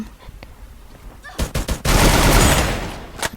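Gunfire in the mobile battle game Free Fire: a few sparse shots, then a cluster of sharp reports and a dense sustained burst of automatic fire, loud and close, with a final shot at the end.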